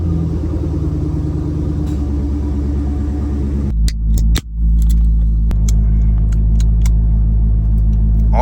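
A go-kart engine in a garage rumbles loudly, cuts briefly with a clunk, then fires up again into a steady, close, heavy running drone.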